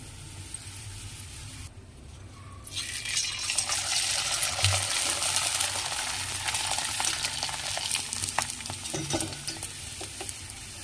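Sun-dried vadiyalu and chillies frying in hot oil, a steady close sizzle with occasional stirring clinks, smoke rising from the pan.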